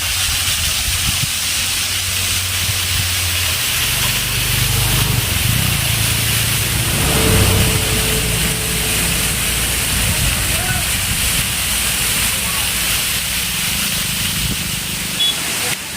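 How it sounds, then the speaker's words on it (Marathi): A monsoon waterfall along a hillside route near Saputara, heard as a steady, broad rushing roar that fills the whole stretch, with faint voices briefly in the background. "हा वाटेत लागलेला धबधबा."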